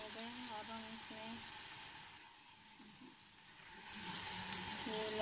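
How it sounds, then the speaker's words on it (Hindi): Onions frying in a pan until brown while cooking chana pulao, giving a steady soft sizzle and hiss throughout, with a faint tonal hum under it and a brief quieter dip midway. "अब हम प्याज को ब्राउन होने देंगे।"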